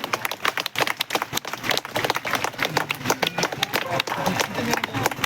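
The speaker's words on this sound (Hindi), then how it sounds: "जोरदार तालियां" A Republic Day celebration crowd at Sri Vijaya Puram claps for five women police officers performing a ladder stunt on a Bullet motorcycle. The sharp claps come in bursts with some crowd noise.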